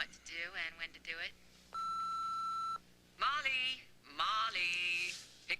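A telephone answering machine gives a single steady electronic beep lasting about a second, with voices talking just before and after it.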